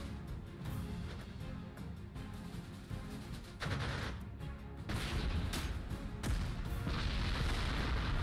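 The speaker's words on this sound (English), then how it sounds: "Yeah, they are shooting at my ships." Artillery booms and gunfire fill a battle in the WWII strategy game Panzer Corps 2, with shells hitting ships amid loud, dense rumbling and repeated blasts that swell toward the end.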